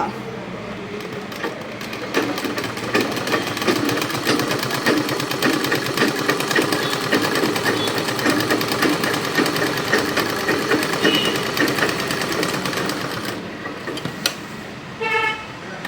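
A sewing machine stitches the slit of a churidar in a long, continuous run of rapid mechanical clatter up close, with a brief pause and a few more stitches near the end.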